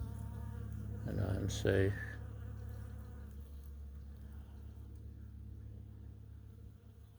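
Honeybees buzz in a steady, close drone with a louder swell early on, under a low background rumble, while a person says a few words.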